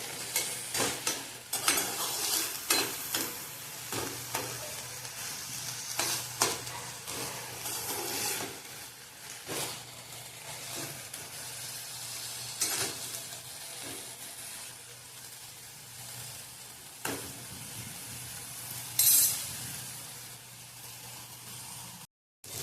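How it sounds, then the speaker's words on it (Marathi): Field beans (pawta) roast in oil for a Karad–Satara style chimbachi bhaji, giving a soft continuous sizzle with repeated scraping strokes of a spoon stirring the pan, fairly quiet and close, without voices. "पावटा हा तेलात चांगला भाजला गेला की शिजतो चांगला, म्हणून हे आपण तेलात चांगलं भाजून घ्यायचं आहे आधी."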